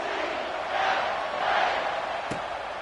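A video-game stadium crowd at an EA College Football 25 game against West Virginia roars in a steady, swelling wash of cheering, with a brief sharp thump near the end.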